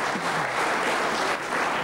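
Studio audience applause on a German TV talk show, a continuous wash of clapping from a small crowd, steady and fairly loud throughout.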